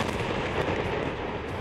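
A bomb explosion in Lebanon rolls out as a dense, sustained roaring rumble, loud and continuous throughout with no distinct separate blasts and no voices.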